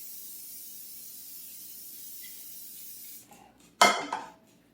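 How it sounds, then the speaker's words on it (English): A quiet steady hiss gives way to a short, sharp burst of spray into a pan, followed by a brief second spurt. "And we're going to spray the pan again."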